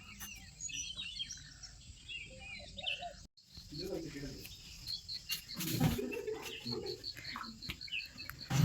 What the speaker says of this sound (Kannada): ಸೌಂಡ್ ಕೇಳಿಸ್ಕೊಳ್ಳಿ ಗೈಸ್, ಬರ್ಡ್ಸ್ ಸೌಂಡ್ ಮತ್ತು ಪಿಕಾಕ್ ಸೌಂಡ್ ಎಲ್ಲ.